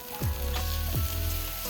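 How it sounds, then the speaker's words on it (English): Sliced onions hit melted butter on a Blackstone griddle, with two sharp bursts of sizzle as they land, then a loud, steady crackle that continues close up without any voices. "get some butter melted and toss your sliced onions right in"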